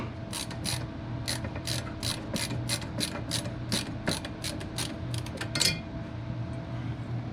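Phillips screwdriver screwing down parts inside a desktop computer build, a steady run of close, sharp ratcheting clicks repeating quickly for several seconds, with no talk.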